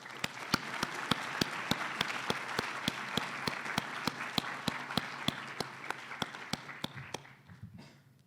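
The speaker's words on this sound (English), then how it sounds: "Let's please give them a warm round of applause" Regular, evenly spaced sharp claps over a soft wash of crowd noise at a debate, fairly faint and distant, fading out near the end with no talk over it.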